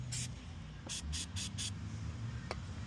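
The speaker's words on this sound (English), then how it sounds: "Give it another spray." Five quick hissing spritzes of cleaner from a trigger spray bottle onto a car, one then four in a fast burst, followed by a single squirt later, over quiet background hum.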